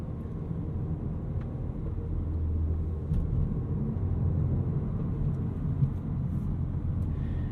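Cabin of a 2022 Volkswagen Golf R with a six-speed manual, heard from inside while cruising: a steady low engine and road rumble holding an even level throughout, with no voices.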